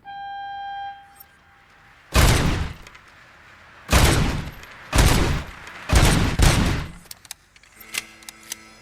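Bursts of gunfire on a shooting range in the video game RoboCop: Rogue City: four loud rapid-fire volleys with short pauses between them, followed by a few lighter clicks and mechanical tones.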